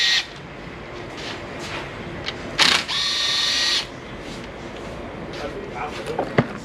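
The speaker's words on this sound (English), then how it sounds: "And now we're going to get our 8 millimeter. Take these off." Ratchet driving an 8 mm socket to remove bolts from the AC condenser on a Nissan Pathfinder, giving a close, loud burst of rapid clicking about a second long, with quieter ticks and handling noise around it.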